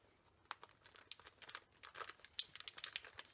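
Crinkling plastic packaging of puffy stickers being opened up close, a dense run of sharp crackles and rustles that grows busier and louder toward the end, with no voices.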